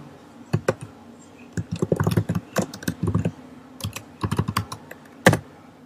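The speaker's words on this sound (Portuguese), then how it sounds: "Vamos digitar um valor para o cateto 1." Typing on a computer keyboard nearby: irregular clusters of crisp key clicks with short pauses between bursts and a louder keystroke near the end, with no talk over it.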